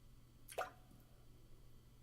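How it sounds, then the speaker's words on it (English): A single water drop falls and plops once in a quiet, humid space, close and clear against a faint low hum. "Drip, drip."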